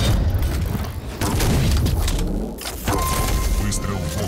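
Rocket explosions and weapon fire in the arena shooter Quake Champions, loud booming blasts and crackle filling the clip continuously, with a voice talking over the game action.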